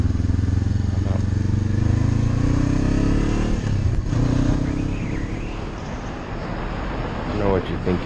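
A 2016 Honda CBR500R 500cc motorcycle riding along a country road, its engine a steady loud drone with wind rush throughout and a slight dip and rise toward the end.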